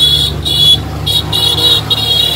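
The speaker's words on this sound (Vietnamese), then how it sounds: "Bên kia là các bạn thấy cái xe máy đang lao lên vun vút không?" A motorbike speeds up a steep mountain road in Ha Giang, Vietnam: a steady low engine drone runs throughout, with repeated bright, pulsing tones rising above it.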